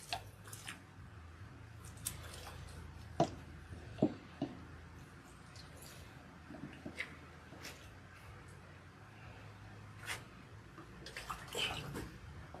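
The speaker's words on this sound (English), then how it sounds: "Now we are rinsing." Water rinses oil out of natural hair, a soft continuous splashing and squishing with scattered sharper drips and taps, fairly quiet and up close, with no talking.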